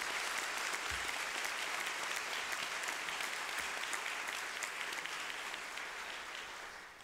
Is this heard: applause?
yes